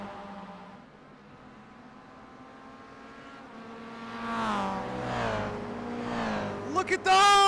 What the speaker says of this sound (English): Here we go side by side between a Mazda MX-5 and that little bit more draft heavy Toyota GR86 of Ali XA